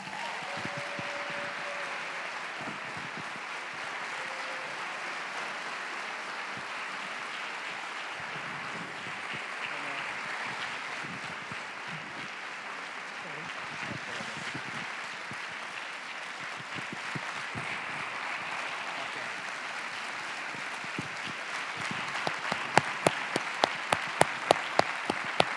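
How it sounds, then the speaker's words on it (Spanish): Sustained audience applause welcoming film director Alejandro Amenábar at a public event in Torrent, steady dense clapping for over twenty seconds that ends in a few louder, isolated claps. "recibir con un fuerte aplauso a nuestro invitado"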